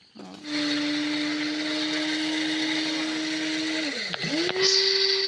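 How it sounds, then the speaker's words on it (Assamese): An electric mixer grinder grinds Naga tenga for pickle with a loud, steady motor whine that dips and briefly stops near the end, then restarts. "মিক্সিত দিব এতিয়া, সম্পূৰ্ণ গুড়ি কৰি ল'ব নেকি?"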